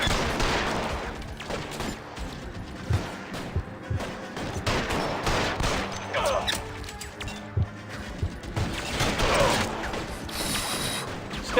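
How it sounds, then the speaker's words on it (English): Gunfire in the game L.A. Noire during a shootout with an assassin, rapid repeated shots and mechanical clatter mixed with game sound effects, loud and dense, with a voice speaking briefly. "Lass ihn erstmal all seine Rounds abschießen."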